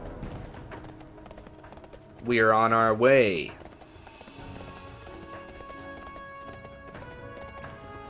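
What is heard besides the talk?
Acarus Death Charger mount hooves, World of Warcraft video game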